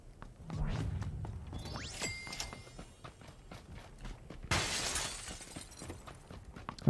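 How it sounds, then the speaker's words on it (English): Glass shatters in a PUBG match, a bright crashing burst about two seconds in with a second broad crash near the middle, among clattering footstep-like thuds and game noise. "that glass breaking just scared me"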